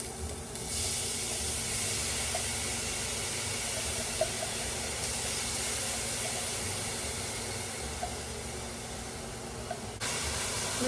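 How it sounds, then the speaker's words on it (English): A veggie mixture going into hot oil for a ground turkey sloppy joe gives a loud, even hiss that runs nearly unbroken up close, then shifts slightly near the end. "Okay, so our oil is hot. I'm gonna go ahead and put the veggie mixture in."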